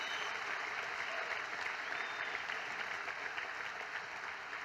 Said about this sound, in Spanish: Dale el mejor aplauso que tengas al Señor